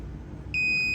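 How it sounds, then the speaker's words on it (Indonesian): A gas sensor's steady high-pitched electronic buzzer alarm switches on abruptly after gas is applied and holds continuously over a low background hum. "buzzer akan menyala"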